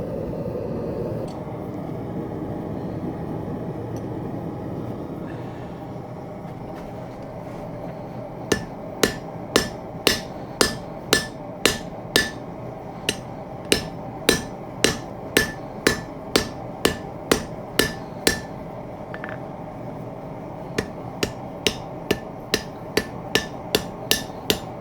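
Heavy hammer blows ring out on hot rebar over a hot cut at a blacksmith's forge, a long run of sharp, loud metallic strikes in steady rhythm with brief pauses, over a low constant forge roar.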